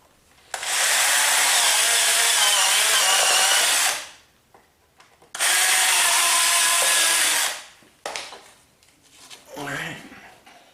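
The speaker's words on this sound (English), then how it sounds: "I'm gonna go ahead and drill the top here." A power drill bores into the top of a drive-on tilt-over antenna mount in two long, loud sustained bursts with a pause between, followed by shorter, rougher bits of tool noise.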